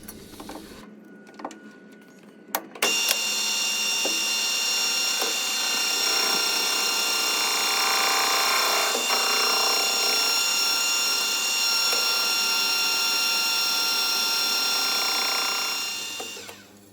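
A lathe machines a recess in the trunk of a tool-post holder storage tree, a steady whirring cut with faint scraping starting after a few clicks, running evenly and then fading as the machine stops.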